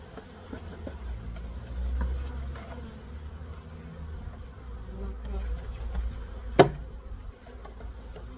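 Honey bees from a package shaken and dumped into a new Layens hive, a steady, soft buzzing swarm close by with one sharp knock or tap partway through.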